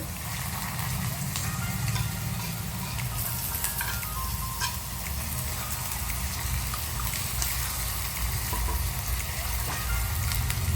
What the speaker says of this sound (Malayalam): ചൂടായ എണ്ണയിലേക്ക് അല്പം വീതം ഇഞ്ചി കുഞ്ഞായിട്ട് അരിഞ്ഞത് വേണം ചേർത്ത് വറുത്ത് കോരാനായിട്ട്.